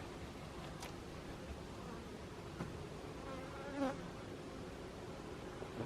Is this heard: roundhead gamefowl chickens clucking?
no